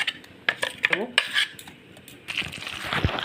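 A utensil clinks and scrapes against a bowl while mixing cornflour and ground lentil pakora batter, in irregular close taps and scrapes, followed by a softer, steadier rustle of stirring.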